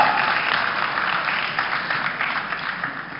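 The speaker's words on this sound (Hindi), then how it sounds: "आप लोग तालियों में कंजूसी कर रहे हैं" Audience applause at a televised Ideas on India 2023 event in India, a steady wash of clapping held at an even level for a few seconds, with no voices over it.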